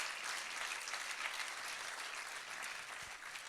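Audience at an evening trophy awards ceremony applauding the jury members, a dense, steady wash of many hands clapping throughout, fairly distant and even, with no talk over it.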